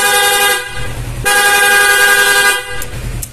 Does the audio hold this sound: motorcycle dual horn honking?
yes